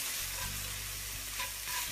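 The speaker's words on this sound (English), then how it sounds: "you can use the whole skillet to saute your vegetables" Vegetables sizzle and crackle in a hot skillet, a continuous close frying hiss with occasional stirring scrapes.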